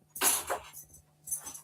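A bunch of house keys jangles in a few close, bright metallic bursts, one longer shake followed by a shorter one after a brief pause.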